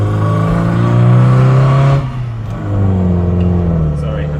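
An MGB GT accelerates past a cyclist, its engine droning loudly from inside the cabin. The revs ease briefly before the engine pulls hard again with a steady rising hum.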